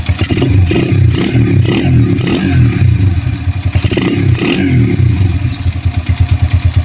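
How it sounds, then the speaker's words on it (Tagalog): A Honda TMX 155 motorcycle engine idles after a carburetor adjustment, with its air filter still off: a steady, loud, low, rapid thumping that holds throughout, with no talking. "Ayan, ganyan na yung idle niya."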